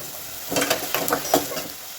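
Onions frying in a pan for Telugu-style chicken fry, a soft sizzle with scattered stirring scrapes and a few spoon taps, fairly close and moderately loud, with no talking.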